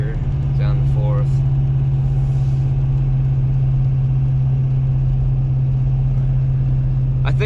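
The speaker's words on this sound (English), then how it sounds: "Going up a hill right now. Fifth gear, down to fourth." A Ford Powerstroke diesel pickup with a muffler delete tows a load uphill, dropping from fifth to fourth gear, giving a loud, steady low drone that continues throughout from inside the cab.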